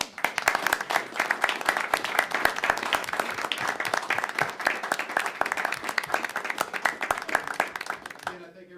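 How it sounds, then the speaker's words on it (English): An audience at a city council meeting claps in sustained applause, a dense crackle of many hands that holds steady for several seconds before tapering off at the end. "Give another round of applause."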